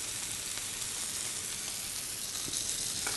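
Pork fillet wrapped in prosciutto searing in a hot frying pan, giving a steady, close, loud sizzle with a continuous fat-spitting hiss and no talk.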